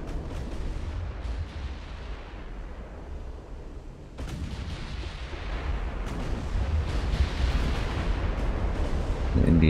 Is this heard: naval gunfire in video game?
yes